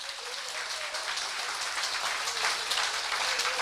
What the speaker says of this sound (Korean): 여기 오신 여러분들, 모두 자기를 위해서 박수 한번 하고 시작할까요?